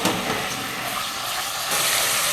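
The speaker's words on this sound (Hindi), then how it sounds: "अगर मैं घ्यो ज़्यादा गर्म कर लवे ना ओदी शों की आवाज़ बड़ी आनी सी हुन हल्की आई है" Garlic and ginger sizzle in hot ghee with a steady, fairly soft hiss that holds even throughout and swells slightly near the end, with no voices.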